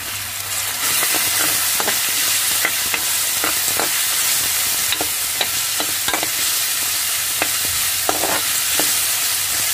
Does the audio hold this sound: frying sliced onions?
yes